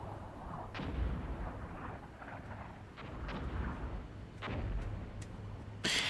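Armored vehicles opening fire in the tank battle game Armored Brigade II, a series of distant booming shots and rumbling impacts spread irregularly over the scene, with a sharper blast at the end.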